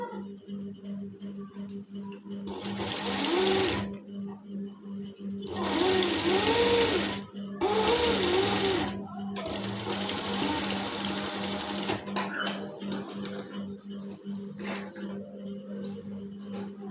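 A sewing machine stitches a designer pocket on a waistcoat in four separate bursts of rapid needle clatter, with a low steady hum continuing between runs.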